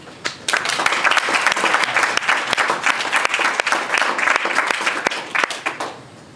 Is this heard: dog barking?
no